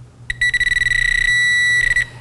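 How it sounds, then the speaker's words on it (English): Garrett Pro Pointer handheld metal detector beeping: a loud, bright electronic tone that starts with a single beep, then pulses rapidly in a fast stutter before holding a continuous tone and breaking into quick pulses again. "The sound simply beeps louder and faster as you get towards the target."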